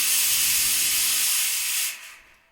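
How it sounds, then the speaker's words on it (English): A smoke machine laid on its side blasts a loud, steady hiss of fog sideways, the stream of haze sounding close, then cutting off and tapering away near the end. "it blows smoke up into the air, and then flavors it with all these flashing lights and stuff"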